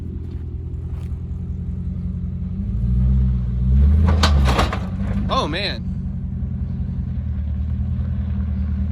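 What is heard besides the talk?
Hemi 500 HP Jeep driving offroad, clattering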